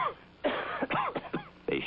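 A man coughs and clears his throat in a 1967 Vicks cough drops commercial, several short close bursts in quick succession.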